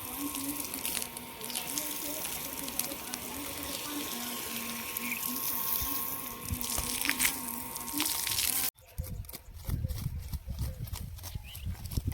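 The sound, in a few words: water being sprayed on a vehicle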